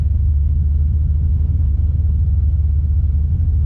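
A drag race car in first gear, pulling away with CO2 on, gives a loud, steady low engine rumble that holds constant throughout.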